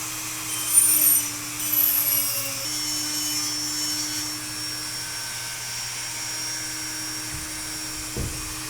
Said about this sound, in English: We're just going to very gently just get in there and kind of grind that out